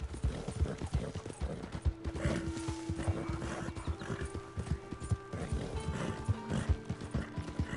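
Rhythmic hoofbeats of a galloping horse in the video game Red Dead Redemption II with a whinny mixed in, steady and close, over a faint background tone.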